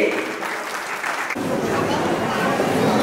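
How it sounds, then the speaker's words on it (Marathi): A crowd at a memorial ceremony for Sant Shiromani Sena Maharaj claps for the doctor, and the sustained applause swells into a dense, loud roar partway through. Voices carry faintly under the clapping. "जोरदार टाळ्या वाजवायच्या डॉक्टर साहेबांसाठी"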